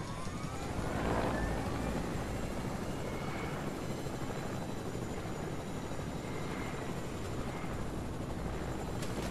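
A helicopter in the video game Fortnite churns in a steady, loud rotor drone that runs throughout without letting up, with no talk over it.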